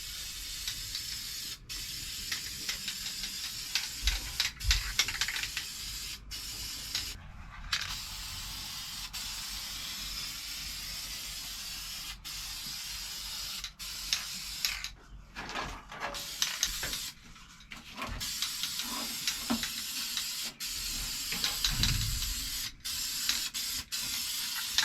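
Primer sprayed into the welded seams of a 1973 Nova, steady close hissing bursts broken by brief pauses, with faint mechanical clicks between passes.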